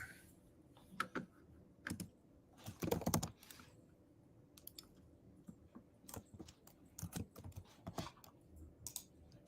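Several people type and click on computer keyboards during an SQL class, scattered bursts of quick close keystrokes and clicks with quiet pauses between, no talking.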